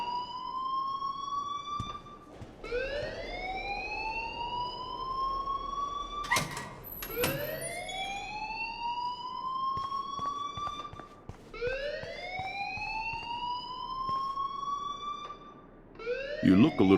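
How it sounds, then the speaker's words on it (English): Wailing siren-like alarm from the video game Life is Strange, rising swoops repeating every few seconds, loud and continuous, with brief voices and clatter underneath. "please turn off that alarm since that's your job"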